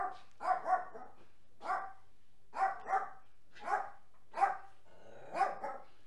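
A dog barks in short bursts, often doubled, about six or seven times with brief pauses between, moderately close in an otherwise quiet setting.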